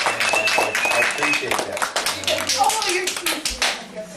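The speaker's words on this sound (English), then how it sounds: "we need to give your parents a round of applause" A round of applause for parents at a youth team's end-of-season party, scattered close clapping with a voice speaking briefly over it.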